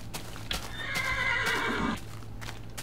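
A Minecraft horse gives a loud, close whinny lasting about a second, with soft hoof steps and background game noise around it and no voices.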